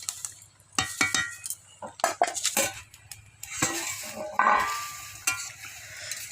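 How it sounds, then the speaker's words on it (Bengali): Cabbage and prawns stirred in a pan over a traditional earthen stove: close metallic clanks and scrapes of a spatula come in irregular bursts over a soft sizzle, with a few louder knocks as the pan is worked and covered. "ভালো করে নেড়ে নুড়ে আবার ঢাকা দিয়ে দেবেন"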